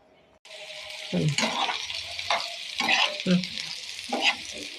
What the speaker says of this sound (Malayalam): ഒന്ന് ഇളക്കി കൊടുത്ത് എണ്ണയിലോട്ടിട്ട് മൂപ്പിച്ചെടുക്കാം